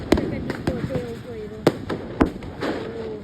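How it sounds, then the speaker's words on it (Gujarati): Firecrackers burst during Diwali celebrations in Surat: about six sharp bangs pop at irregular intervals, some near and loud, with people talking and calling out between them. "આમ બાજુ બોમ્બ ફોડે છે"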